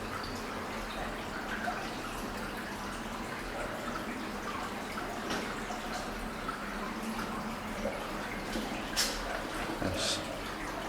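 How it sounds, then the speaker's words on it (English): Water seeps and drips through the rock inside an old RAF reserve bomb depot at Llanberis, a faint irregular dripping over a constant low hum, with a few sharper drips standing out near the end. "Water coming through the rock."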